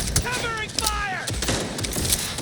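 Rapid gunfire in Cyberpunk 2077, sharp repeated bursts under an urgent shouted voice, with mechanical clatter and loud close shots continuing after the talking stops.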